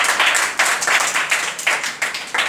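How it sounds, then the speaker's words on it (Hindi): Loud audience applause at a quiz event, dense clapping rising in several bursts across the whole stretch, with no voices over it. "जोरदार ताली बजाइए।"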